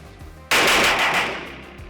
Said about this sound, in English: Next yard line, 5 more shots.